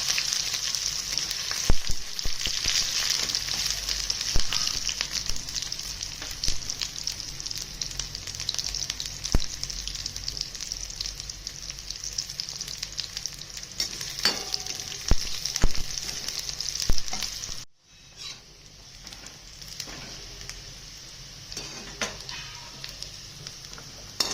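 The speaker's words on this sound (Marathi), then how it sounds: "झाले बघा सगळे कारले फ्राय करून आता त्याच तेलामध्ये" Bitter gourd pieces fry in hot oil with a steady, close crackling sizzle that runs unbroken for most of the time, then briefly drops away and resumes more quietly.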